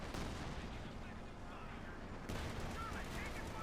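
Battlefield gunfire in Company of Heroes 2, Wehrmacht against US Forces: dense, continuous crackle of shots and heavier bursts, loud and close, with a fresh surge of firing partway through.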